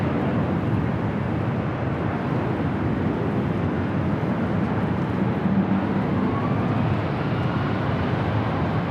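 A Delta airliner taking off at LAX gives a steady, loud, broad jet roar that holds constant throughout, with no voices.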